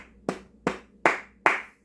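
Hand clapping for hip-hop artists Cartune Beatz and Tha God Fahim: four sharp, evenly spaced claps close up, each ringing out briefly, with no talk.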